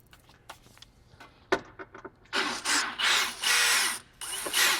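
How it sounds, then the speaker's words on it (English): Small metal screws being worked loose with a screwdriver from a kegerator's control board, heard as close clicks and ratchety turns followed by louder sustained scraping and rattling bursts. "use 2 fingers and the screwdriver to get them out"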